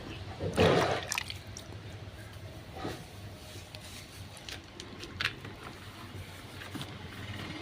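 A brief splash of water is sprinkled onto cut grass being layered for compost, followed by faint scattered drips and light patter against a quiet background.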